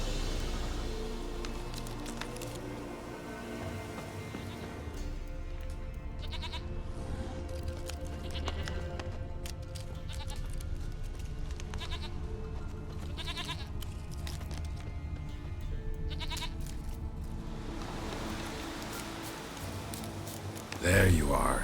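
A goat bleats several times in The Witcher 3, its calls mixed into a busy game soundscape with music and ambience, and a voice talks at moments over it.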